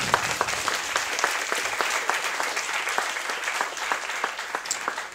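An audience claps steadily and fairly loudly for about five seconds at a university thesis-presentation event, with no voices over the applause.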